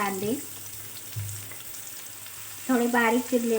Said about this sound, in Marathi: त्यात आपण आता जिरे टाकू, थोडे जिरे टाकणार